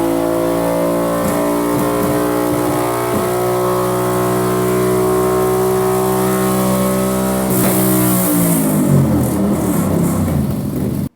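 Moto Guzzi Griso 1200 motorcycle engine running with a steady harmonic drone near 5,000 RPM, rough and slightly uneven from a misfire, then the revs drop off and the note falls away toward the end; loud, close and with no talking.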